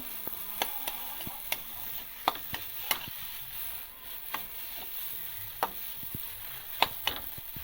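Soft sizzling of a green pea kochuri filling frying runs underneath while a utensil scrapes and taps against the pan in irregular, sharp knocks throughout.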